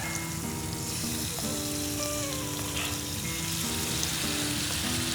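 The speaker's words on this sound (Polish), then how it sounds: "to obsmażenie wstępne mięsa. Skwierczy, skwierczy." Meat sears in vegetable oil in a pan with a steady, close sizzle and crackle. Faint stirring clinks sit under the hiss, with no talking.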